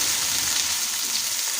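Garlic ginger paste frying in a pan for an egg and peas curry, a loud, steady, close hiss of sizzling oil with no pauses.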